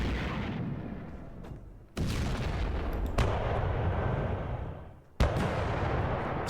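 Heavy guns booming in the wargame Panzer Campaigns: three loud, abrupt artillery blasts spaced a couple of seconds apart, each followed by a long rumbling roar that slowly fades, with no voices.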